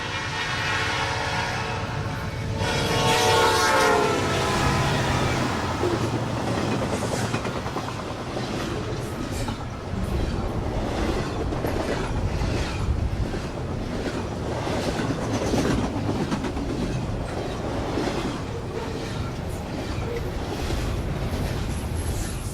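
Norfolk Southern train 25A, led by an SD70M-2 locomotive with DC traction motors, rolls past on the New Castle District, a loud, continuous rumble and rattle of cars with heavy wind buffeting the microphone.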